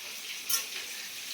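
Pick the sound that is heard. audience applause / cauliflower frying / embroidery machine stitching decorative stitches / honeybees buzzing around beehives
cauliflower frying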